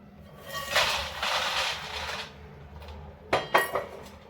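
Dry roasted makhana (fox nuts) tipped from a pan onto a plate in a kitchen, making rattling, rustling pours followed by two sharp metallic clinks of the utensil near the end.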